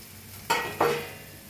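Okra and potatoes drop into roasted masala in a pan, two quick sizzling bursts with a light clatter as the vegetables land, then fading frying.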